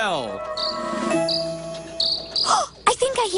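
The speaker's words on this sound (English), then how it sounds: "I think I hear a cricket." A cricket chirps in repeated high trills over a soft tonal musical background in a grassy grove setting, followed by brief lively vocal sounds near the end.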